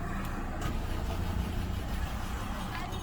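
A Peugeot 407 with a crank-no-start fault cranks steadily without firing, a continuous low mechanical churn with no catch or idle.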